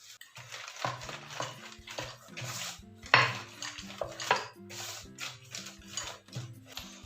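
A rolling pin thumps and clatters on a board in uneven bursts, rolling carrot paratha dough thin between plastic sheets, close by, with steady background music playing throughout.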